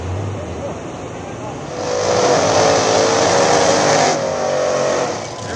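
A nitrous Fox Body and a rat rod, small-tire drag cars, at a dig-style drag racing event, engines droning loudly and swelling into a strong roar mid-clip before easing off, with a voice talking over them.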